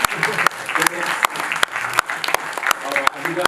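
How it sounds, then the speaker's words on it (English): An audience gives a round of applause at a talk, the clapping dense and steady across the whole stretch with sharp individual claps standing out and voices mixed underneath. "give Dede a round of applause for that one"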